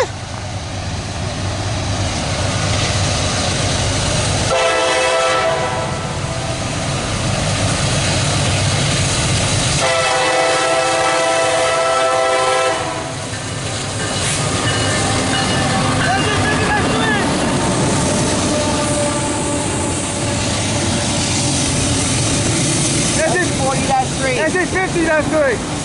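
CSX loaded autorack freight train hauled by an SD50-3 locomotive rolls past nearby, a loud steady rumble and clatter of railcars with horn-like tonal blasts around five and ten seconds, and brief voices late on.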